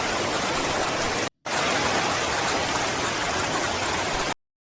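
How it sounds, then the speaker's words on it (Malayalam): Heavy rain pours in a dense, loud, uniform roar that drops out briefly, resumes, then cuts off abruptly near the end. "നല്ല മഴയാണ്."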